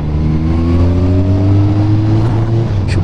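Motorcycle engine fitted with an aftermarket exhaust tip, revving loudly and close by as a steady, throaty drone whose pitch climbs slightly and then drops off near the end, with no talking.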